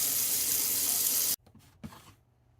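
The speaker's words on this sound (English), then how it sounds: "you don't have to watch me scrub all the vegetables, but that's what I'm going to do" Vegetables are scrubbed under a running kitchen tap: a steady hiss of water flows for over a second, then stops abruptly, followed by a few faint wet handling sounds and a soft knock.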